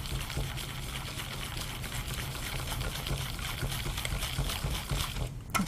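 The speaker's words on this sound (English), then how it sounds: "I'm going to switch to the whisk. Okay. And you want to whisk this till it's smooth" A hand whisk beats mixed berry tart filling in a bowl, a steady rapid swishing and tapping that runs continuously at close range.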